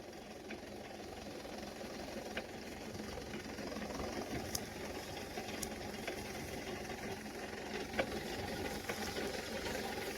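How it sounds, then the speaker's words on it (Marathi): A tractor-mounted pesticide sprayer works on a crop field, spraying under pressure with a steady low engine hum and a continuous mechanical whir, with a few faint clicks and no voices. "आणि प्रेशरनं फवारणी होते."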